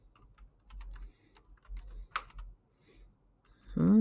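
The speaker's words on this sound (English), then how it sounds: "just type it in." Bursts of computer keyboard typing, a quick run of clicky keystrokes in short clusters with pauses between, close and fairly quiet, no talking.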